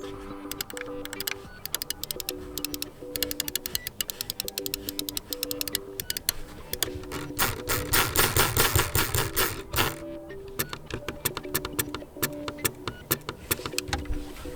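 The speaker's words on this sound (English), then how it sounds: "There's the click of the mouse." Sharp, dry clicks from a Razer Basilisk V3 gaming mouse's buttons, pressed repeatedly in quick irregular bursts close to the mic with no talking.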